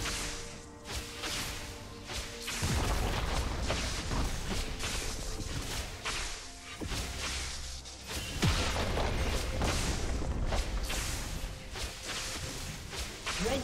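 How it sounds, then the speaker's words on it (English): Heavy crashes and booming impacts from a turret being destroyed in League of Legends, a Viktor versus Nunu and Willump mid-lane match, stacked with whooshes and dense, loud battle effects throughout. "Red team's turret has been destroyed."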